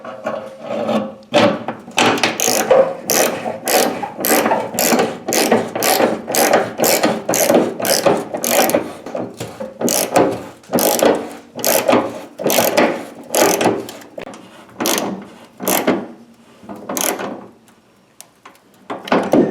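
A ratchet tightens a fuel tank strap bolt during a carburetor-to-Sniper EFI fuel injection conversion, giving loud, rapid clicking bursts in a steady back-and-forth rhythm with short pauses between strokes.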